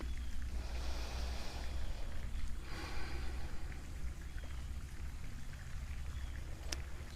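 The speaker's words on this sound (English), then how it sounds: "Much like the water that is trickling behind me" Water trickling steadily outdoors behind a seated chair-yoga session, a soft continuous wash of flow with faint splashes, moderately quiet and alone without talk.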